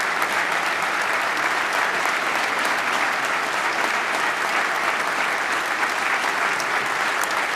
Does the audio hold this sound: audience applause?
yes